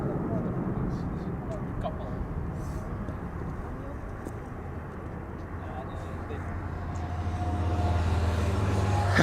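Qatar Cargo plane departing Amsterdam Schiphol Airport: a distant broadband jet rumble under outdoor ambience, steady and moderately loud, swelling near the end.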